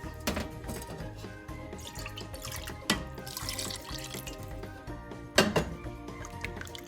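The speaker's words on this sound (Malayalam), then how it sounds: "കുറച്ച് ചൂടുവെള്ളവും കൂടെ ഞാൻ ഇതിൻ്റെ കൂടെ ഒഴിക്കുവാണ്." Hot water is poured into a pot of Kerala-style sambar, a quiet liquid splash and trickle with a few clinks of utensils and one sharper knock near the end.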